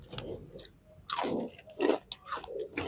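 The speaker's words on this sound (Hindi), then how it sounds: "अब गाइस कुरकुरे खा लेते हैं गाइस" Crunchy Kurkure snack being bitten and chewed close up, a series of loud crisp crunches in irregular bursts with quieter pauses between bites.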